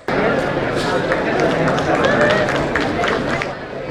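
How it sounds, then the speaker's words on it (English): Applause from an audience greeting a guest speaker at an IoT student event, a steady dense wash of clapping filling the room for about four seconds and tapering slightly at the end. "Let's give her a big round of applause"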